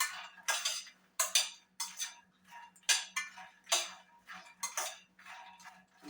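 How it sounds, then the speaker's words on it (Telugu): Phool makhana (fox nuts) roasting in a pan, stirred with a utensil: a run of about nine crisp scraping, clinking strokes in a loose, regular rhythm, close and fairly loud over a faint steady hum. "అవి చక్కలాగా కరకట్లాడుతూ వేగిపోతాయి అన్నమాట"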